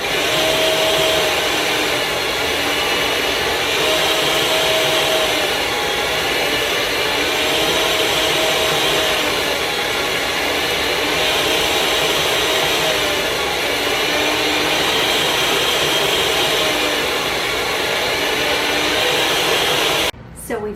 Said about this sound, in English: I'm actually going to use our slicer to get some nice slices